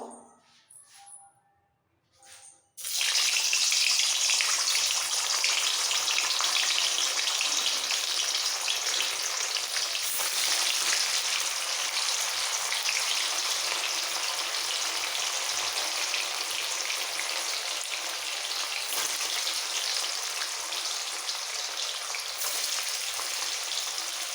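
Paneer pieces are dropped into hot oil in a pan over lowered gas and set off a loud, steady sizzle and crackle. The frying starts abruptly after a few quiet seconds and then holds at an even level.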